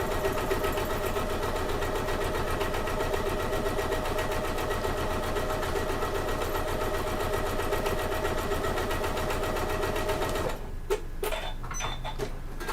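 A sewing machine hums continuously at a fast, even pace while stitching through a bag's lining, fleece and outer fabric, close and loud, then halts near the end with a few clicks and handling noises.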